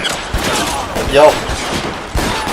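Heavy gunfire in the video game L.A. Noire, with sharp bursts and rapid volleys rattling in close succession over a busy game soundtrack, alongside some vocal sound.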